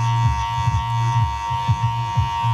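Electric hair clippers fitted with a 2 guard run with a steady close buzz, its pitch dipping in repeated short strokes as they cut through hair during a haircut.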